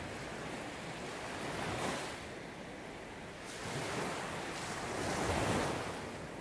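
Ocean waves washing steadily below a lighthouse cliff, a continuous broad roar that swells and eases in slow surges, with no voices.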